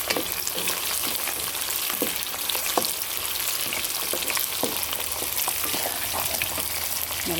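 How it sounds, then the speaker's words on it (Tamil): Onions tipped into hot oil with garlic and curry leaves crackle and sizzle in a steady, dense spatter that holds at an even level throughout, with no voices. "இப்போ வந்து வெங்காயத்தை போட்டுறேன்."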